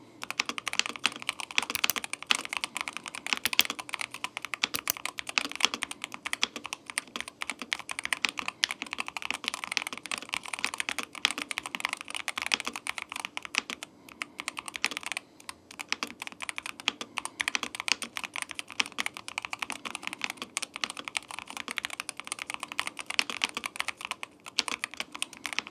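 Steady typing on an Apex Pro Gen 3 mechanical keyboard with pre-lubed switches and dampening foam in a plastic build, continuous rapid clicky keystrokes, close and fairly quiet, with no talking.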